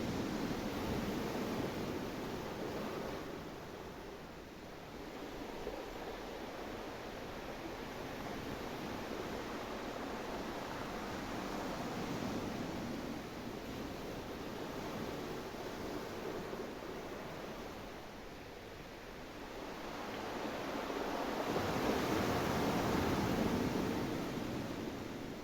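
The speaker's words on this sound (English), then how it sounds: "Cradled by the sand and rocked by the sounds of the sea" Steady wash of ocean surf rolling onto a beach, a soft continuous roar that swells louder near the end, with no voices.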